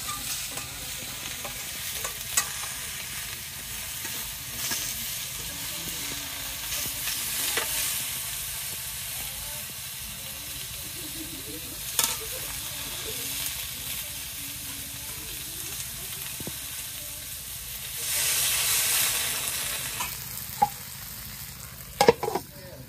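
Spices stir-fried together in a pan, a steady sizzle with scraping stirs throughout, a few sharp clinks of the utensil and a louder burst of sizzling near the end; no one talks.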